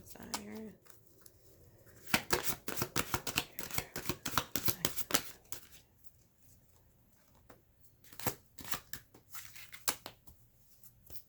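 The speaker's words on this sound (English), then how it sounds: "So we're going to pull 3 cards." Tarot cards riffled and shuffled in quick bursts of crisp, papery flutters, close and fairly quiet, with short pauses and a brief voice at the start.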